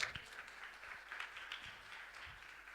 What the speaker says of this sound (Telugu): నమ్మిన వారు గట్టిగా చప్పట్లు కొడదాం.